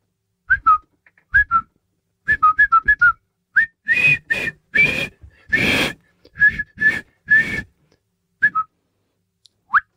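A man whistles a tune in short, bright phrases broken by pauses, loud and close, with some breathy, airy notes in the middle and no talking over it.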